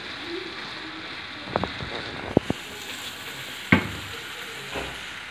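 Dried fenugreek is stirred into an egg and onion curry frying in a pan. A faint, steady sizzle runs throughout, broken by a few sharp spoon clinks and scrapes.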